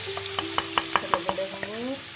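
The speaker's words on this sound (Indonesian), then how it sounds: "akan saya tumis bawang bombay dan bawang putih" Onion and garlic stir-fried in a wok for Hong Kong fried rice, a soft constant sizzle punctuated by a quick series of spatula scrapes and taps, close up, with faint musical tones behind.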